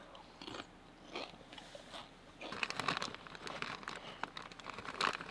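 Crunchy, salty food is bitten and chewed close to the microphone on an Oregon homestead, with irregular crisp crunches and crinkling that grow busier midway, and no talk.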